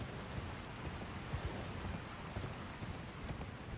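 Horse hooves galloping in the Elden Ring video game, a dense run of soft rhythmic thuds over a steady windy rumble, continuous and moderately loud with no talk.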